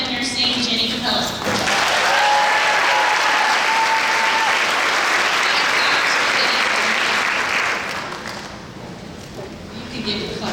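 An audience at the Wenatchee Valley College RN nursing graduation bursts into loud, sustained applause, a thick wall of clapping that swells after a brief voice, holds for several seconds, then thins out near the end.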